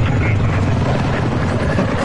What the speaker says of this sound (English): Ooh, chopper gunner, fuck yeah.